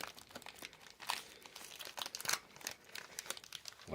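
A 1982 Topps football card rack pack is torn open up close, with quiet, steady crinkling and crackling of the plastic wrapper in quick bursts.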